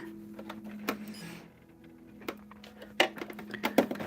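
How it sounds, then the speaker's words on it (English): A sewing machine stitches a quilt seam for a log cabin hexagon table topper, with a rapid mechanical rattling hum in short bursts broken by pauses and light clicks. "we're just gonna sew down this line."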